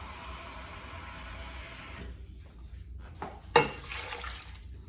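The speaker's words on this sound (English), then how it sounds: "So I'm going to put a little bit more water in here" Water is poured into a pot of Jamaican oxtails, a steady close splashing and trickling that shifts and ends with a brief clunk, no talking over it.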